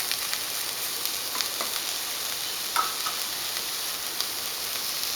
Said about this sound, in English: stir both the vegetables. And cook it for 2 to 3 minutes.